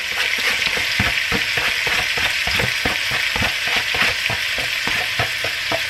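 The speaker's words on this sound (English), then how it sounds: "And then I'm gonna go ahead and add the onions in here." Chopped onions sizzling in a pot for loaded potato soup, a close continuous crackle with frequent stirring clatters and scrapes throughout.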